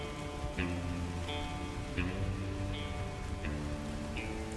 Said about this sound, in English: You just hear the sound of the rain around you as you kind of stumble up out of this bunker.